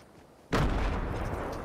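Grenade explosion in Fortnite, a single sharp, loud blast after a quiet moment, followed by a rumbling tail that fades slowly.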